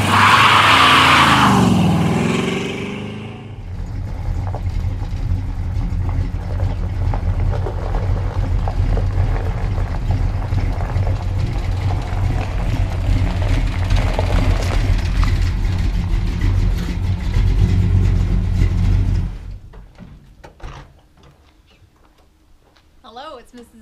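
A 1972 Chevrolet Cheyenne K20 pickup truck drives past, a steady low engine rumble sustained for most of the clip before cutting off, preceded by a short burst of other sound.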